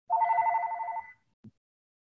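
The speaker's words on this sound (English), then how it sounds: "I'm getting a phone call here, which is distracting me." An incoming call sets a telephone ringing, one clear electronic trill of rapid repeated pulses lasting about a second, close and loud against silence, followed by a short low thump.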